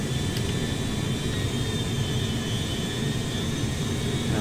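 Steady, dense jet engine roar from a Boeing 787 running on a single engine in a flight game, continuous and even with a faint high whine on top and no voices.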